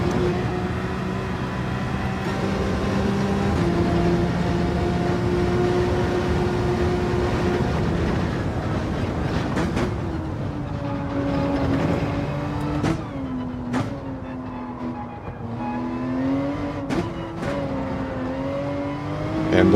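Porsche race car in Gran Turismo 7 on the Nordschleife, engine droning steadily at high revs, then rising and falling in pitch through gear changes with sharp shifts, loud and continuous throughout.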